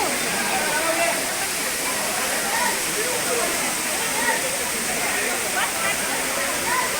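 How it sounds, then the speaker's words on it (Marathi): Water crashing down at a waterfall near Tirupati makes a continuous, loud roaring hiss close by, unchanging throughout the stretch and drowning out any other detail. "पहा, इथून पाणी पडतं."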